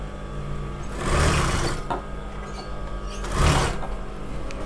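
A sewing machine stitches lehenga fabric in two loud, sustained runs, the second shorter, with a quieter mechanical hum between them.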